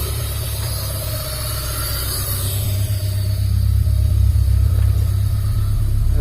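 A Honda Civic Genio engine idles steadily near 900 rpm after the number 2 injector is adjusted, a loud, even close-up hum that swells slightly partway through.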